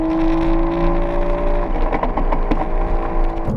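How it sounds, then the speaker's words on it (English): An Aston Martin DBS Superleggera V12 roars close and loud, a sustained deep engine note that climbs in pitch and then shifts into a rougher, pulsing growl, with no talking over it. "The roar from the engine."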